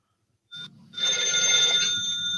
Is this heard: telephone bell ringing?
yes